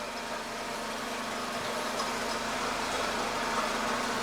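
A Mercedes-Benz S124 with an M102 engine idles after a rough-idle fix, holding a steady, even hum with no break in its rhythm.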